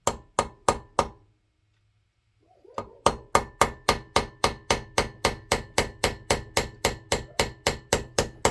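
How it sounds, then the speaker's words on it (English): Sharp, loud metallic hammer blows drive a roll pin out of a Mopar points distributor, three strikes, a short pause, then a long steady run of evenly spaced hits close by. "there's a roll pin that I'm driving out right here"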